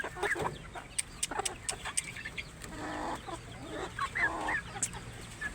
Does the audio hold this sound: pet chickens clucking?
yes